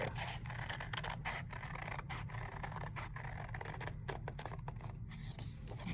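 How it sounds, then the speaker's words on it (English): Scissors snipping through folded paper along a hand-drawn pencil line, a steady run of close, crisp cuts and rustles over a constant low hum, no talking. "Now you're gonna take your scissors and you're gonna come over, I'm gonna pick it up, and I'm just going to cut on that line that I just drew"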